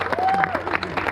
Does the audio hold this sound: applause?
yes